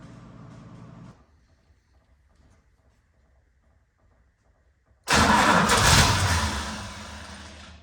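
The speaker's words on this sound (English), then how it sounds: "Well, she fired first time. That's pretty amazing. This car hasn't been on the road in 30 years and it fired." A low idle murmur cuts out, followed by a quiet pause, then an old car engine that has sat unused for 30 years cranks and fires first time into a loud, rough, sustained run.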